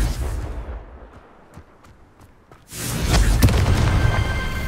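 A magical Confringo fire blast from the Hogwarts Legacy video game: a short booming burst, then a loud rumbling explosion that swells and lingers, with small crackling impacts scattered before it.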